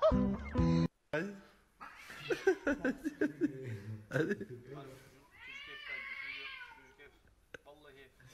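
A cat meows several times in a quick run of drawn-out, rising cries, heard close and clear among overlapping talk and a brief laugh.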